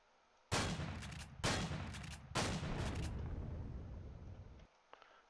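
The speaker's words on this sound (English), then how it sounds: "Alright, I'll just shoot the core." Three heavy, booming gunshots blast one after another in the space game Empyrion as a core is shot out, each with a long reverberant tail, the last fading into near silence followed by faint clicks.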